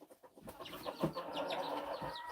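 Chickens cluck and murmur in a farmyard, several birds close by in an overlapping, continuous chatter with a few sharper calls.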